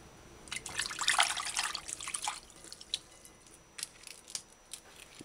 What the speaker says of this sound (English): wipe, and then wash your vegetables properly